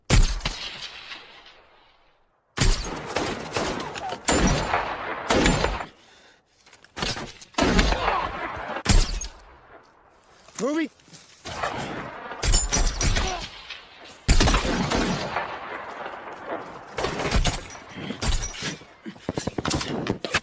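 Bursts of gunfire, crashes and heavy impacts break out in a film battle scene set in Afghanistan, coming in loud, dense clusters with short silent gaps between them.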